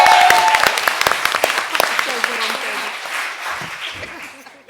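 Audience applause at a literary competition event, a loud burst of clapping from an energetic crowd that fades over a few seconds, with voices faintly mixed in.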